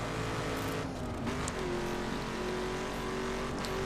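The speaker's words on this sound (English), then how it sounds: "Driving a Ford Mustang, first car I decided to buy." A Ford Mustang in a racing video game drives steadily with a continuous engine drone that rises and shifts pitch slightly, loud and close with no talk.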